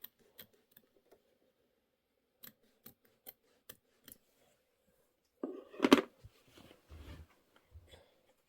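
Scissors snip through quilt fabric in a series of crisp, evenly spaced cuts, fairly close and quiet, followed by a louder rustle of handled fabric and a few soft bumps.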